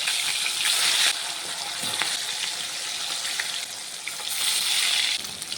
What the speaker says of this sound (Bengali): এখন ইলিশ মাছ ভেজে নেব।